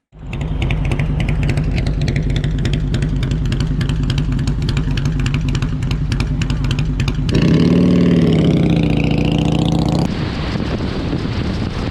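A custom Vicla-style motorcycle runs steadily and loudly close by during a test ride, its engine drone holding a constant throb before a revving rise in pitch and a shift back to cruising.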